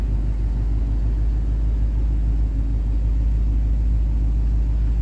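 A 1960 Pontiac Bonneville's engine idles at close range with a steady, deep rumbling drone, even and unbroken, no voices over it.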